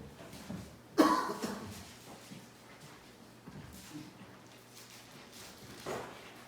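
A single sharp cough bursts out near the mic, followed by quieter room noise and a faint second throat sound later.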